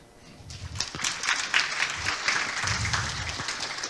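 Audience applause breaks out at a tech conference after a live voice-assistant demo, a dense, steady clapping from a sizeable crowd that holds for several seconds at moderate loudness.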